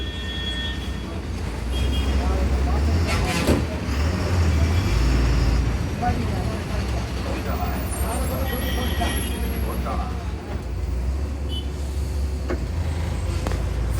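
A brand new TNSTC government bus crawls through heavy traffic on the Kodai road, its engine rumbling low and steady with road noise, occasional brake hiss and faint background voices throughout.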